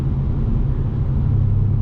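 A 2021 Mercedes-AMG C63 S Coupe engine under hard throttle gives a deep, loud, steady rumble that fills the whole short stretch with no voices.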